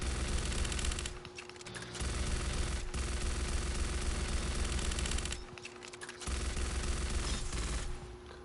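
Overclocked rifle in Aliens: Fireteam Elite firing long rapid automatic bursts, loud and continuous, with two brief pauses between sustained streams of shots.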